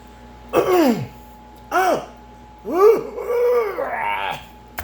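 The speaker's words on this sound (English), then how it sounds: "I had to clear my throat." Someone clears their throat in several loud, close, rasping bursts, each a short guttural vocal effort separated by brief pauses.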